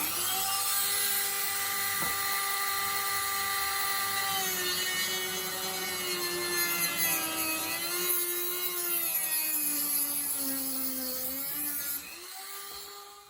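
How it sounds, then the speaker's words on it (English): A Dremel cutoff wheel grinds through a rivet on a Gransfors Bruks axe leather sheath, a loud, steady high-pitched whine with shifting pitch as the load changes, running almost continuously and easing off at the end. "I decided I'm gonna remove this rivet, and for that the best thing that I know is this little cutoff tool on the Dremel"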